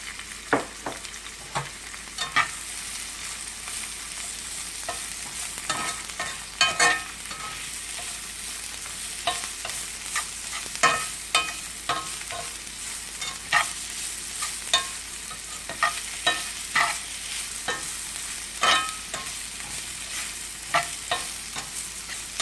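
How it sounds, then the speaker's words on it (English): Garlic and onion fry in a pan for a loco moco, giving a soft continuous sizzle. Frequent clicks and scrapes come from stirring throughout. "throw some garlic in the pan. bit of onion."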